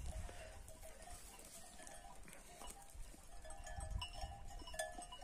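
Flock of sheep being herded outdoors, faint scattered bleats and tinkling bells over a low rumbling background, with distant soft movement throughout.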